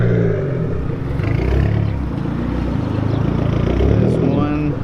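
A big-turbo SRT-4 car idles and blips nearby with a rough, pulsing exhaust beat and a leak in its system, while people talk over the engine.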